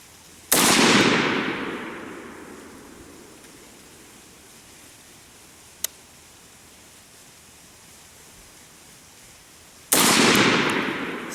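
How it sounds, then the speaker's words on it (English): An AR-15 rifle fires two loud, sharp shots about nine seconds apart outdoors, each with a long decaying echo, and a faint click falls between them. "we're going to go ahead there and fire 2 more shots"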